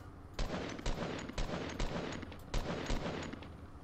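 Gunfire in the Fortnite video game, including sniper shots, comes as a string of sharp, loud bursts spaced roughly every half second over a continuous busy game background, with no voices.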